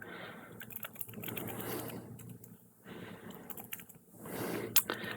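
Keys clatter on a computer keyboard while a location is typed into a data-entry field, in two or three bursts of quick close tapping with short pauses between them. No one speaks.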